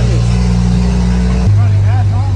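Diesel truck engine revving close by, a loud low rumble that shifts pitch partway through, with people talking over it.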